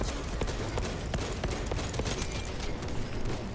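Rapid, continuous gunfire from Space Marine 2 fills the whole stretch with dense, loud crackling bursts and no clear pauses.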